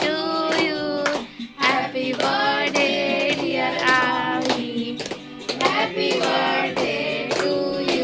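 Hands clapping at a restaurant birthday celebration for a mother's 50th birthday, a rhythmic run of claps beneath loud group singing.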